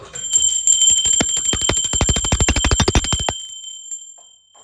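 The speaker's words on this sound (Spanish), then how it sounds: "Ahora sí, va campana." A bell rings rapidly and loudly in a continuous metallic trill for about three seconds, like an alarm or school bell, then cuts off into silence.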